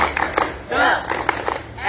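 Students at a junior high school, SMP Negeri 3 Delanggu, perform a rhythmic clap chant, with sharp group claps in quick patterns mixed with loud chanting voices close by.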